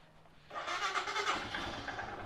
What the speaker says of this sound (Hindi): हो गई गाड़ी स्टार्ट।